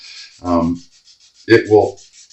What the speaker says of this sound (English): This is pretty aggressive Scotch-Brite, pretty aggressive sandpaper, if you want to call it that